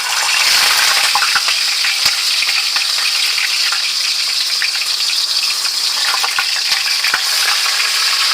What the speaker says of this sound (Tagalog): So, prito muna tayo guys ng isda.